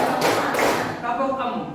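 A class claps together in a rhythmic classroom clapping game, with quick loud group claps in a close room and voices talking over them.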